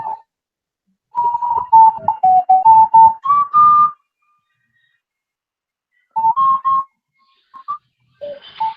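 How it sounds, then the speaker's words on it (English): Ocarina playing the Song of Time melody in short, clear whistle-like phrases at a cosplay party, a run of notes followed by a pause and a few quieter notes near the end. "I think that's the Song of Time."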